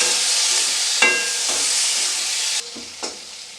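Broad beans and chopped tomato frying in a pan, a steady loud sizzle with a few scraping stirs of the spatula, dropping slightly quieter near the end.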